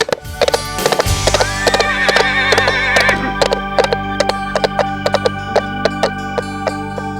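A horse in a children's fairy tale, heard as rhythmic hoofbeat clip-clops that run steadily through the whole stretch, with a whinny-like cry near the start over a musical backdrop.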